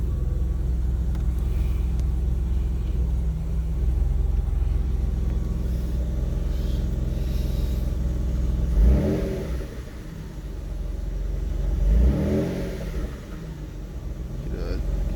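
Engine of a 1995 Mitsubishi 3000GT VR-4 idles while warming up, a steady close rumble with two brief swells in revs, and a voice talks over it.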